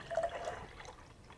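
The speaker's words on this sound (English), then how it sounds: "let's go ahead and pour off some juice that we made fresh in our Cuisinart" Fresh citrus juice pours from a Cuisinart citrus juicer, a faint, brief liquid trickle that fades within about a second.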